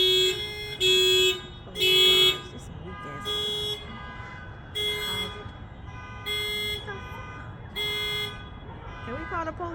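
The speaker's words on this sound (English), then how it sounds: "Everybody's alarms going off." A car alarm blares in repeating bursts of loud tones, with quieter alarm cycles from other cars continuing and voices talking in the background.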